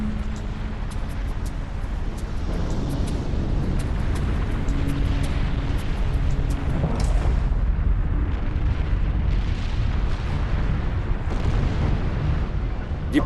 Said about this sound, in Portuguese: a ilha finalmente se abre à força, numa série de explosões gigantescas.